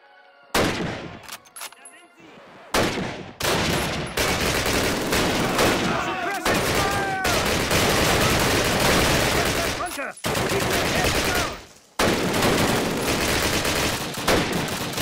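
Heavy bursts of automatic gunfire and machine-gun fusillades in the Call of Duty campaign mission Pegasus Night, coming in long dense volleys separated by brief silent gaps, loud and close.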